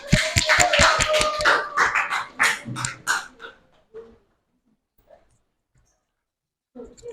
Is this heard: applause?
yes